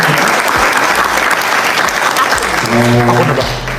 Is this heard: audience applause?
yes